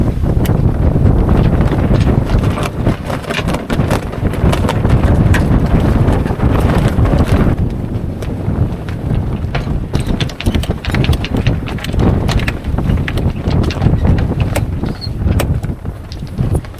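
Gusty wind buffets the microphone aboard a sailboat on a hot day off Baja, a loud continuous low roar that swells and eases in gusts throughout, with no talking.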